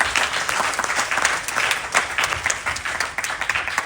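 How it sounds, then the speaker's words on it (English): An audience at a Ganesh Chaturthi celebration applauds, with dense, steady clapping from many hands that runs throughout. "Please give him another round of applause."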